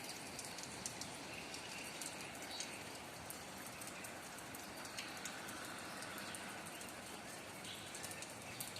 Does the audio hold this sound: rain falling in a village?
yes